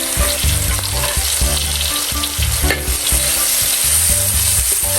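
Pounded chili and garlic hit a hot wok and are stir-fried, producing a loud, dense sizzle with repeated scraping strokes of the spatula against the pan, no voices.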